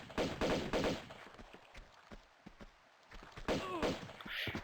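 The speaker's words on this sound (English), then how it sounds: "We're gonna shoot this window open." Gunshots fired at a window in the Tomb Raider 2 video game, in a Venice level: a series of sharp, close shots in quick bursts with short gaps, along with thuds and game sounds, and no talk.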